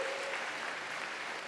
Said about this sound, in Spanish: Otro aplauso para que se animen.